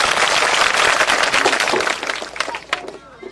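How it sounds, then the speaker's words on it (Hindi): Village crowd applauding to welcome Prashant at a rural gathering, a dense burst of many hands clapping that thins out and fades over a few seconds. "जोरदार तालियों से प्रशांत जी का एक बार स्वागत करें।"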